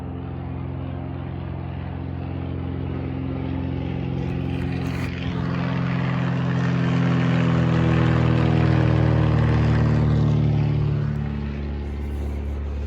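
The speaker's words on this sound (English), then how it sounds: "Right here, I catch on camera a low flying plane as it flies over me." A low-flying plane passes overhead outdoors in rural Maine, a steady propeller and engine drone that swells louder toward the middle and then fades, with no talking.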